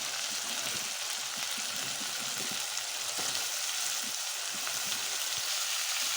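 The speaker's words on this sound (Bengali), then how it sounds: "এখন আমি এতে দিয়ে দেব কেটে রাখা বেগুন" Long slender sliced eggplant sizzles steadily in a hot pan for a spiced small tengra fish curry, a broad close frying hiss with scattered light pops and clicks and no talking.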